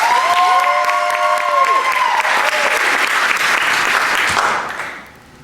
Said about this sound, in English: Now, for applause for your favorite when I point them again.